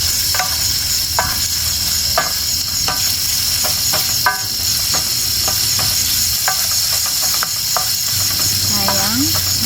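Food sizzles loudly in a pan with a constant hiss and frequent crackling pops, heard up close; a brief scrape near the end.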